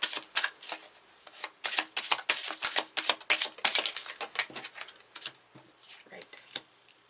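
Tarot cards being shuffled and laid out during a Pisces reading, giving a run of quick, crisp riffling and flicking clicks, close and fairly soft, with a voice talking between and over them.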